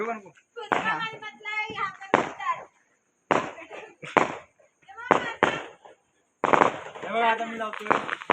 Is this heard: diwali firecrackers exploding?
yes